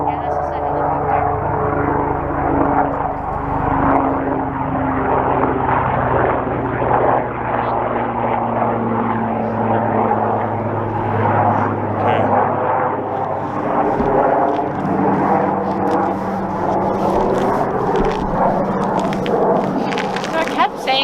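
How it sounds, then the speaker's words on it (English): A helicopter flying low overhead at night in the Appalachian backcountry, a loud droning engine rumble with sustained low tones and rotor chop that holds for around twenty seconds, with people talking over it. "Yeah, that's just a helicopter."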